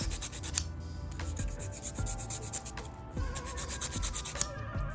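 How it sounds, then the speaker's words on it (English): A coarse 80 grit hand file shapes an acrylic stiletto nail, making close, repeated rasping strokes in a steady back-and-forth rhythm, with no speech. "I believe I'm using an 80/80 file to get a sharper nail."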